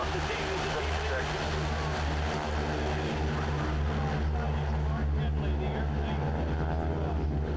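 A propeller aircraft takes off during an air show aerobatic team display, its engine drone steady and loud over airfield ambience while an announcer speaks.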